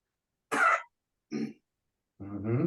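A close, abrupt cough during a yoga class, followed by a short throat-clearing grunt, then a strained vocal sound, separated by silence.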